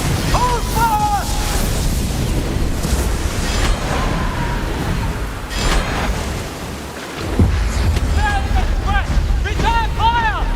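Booming cannon fire and explosions roar through a pirate ship sea battle, with dense rumbling blasts, wind and water noise, and shouted crew voices and whistling tones over the din.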